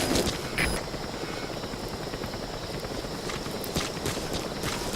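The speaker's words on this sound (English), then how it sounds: "Support helicopter has arrived." Support helicopter arriving in Metal Gear Solid 5, a steady broadband rotor roar holding at even loudness throughout, with faint footstep-like patter mixed in.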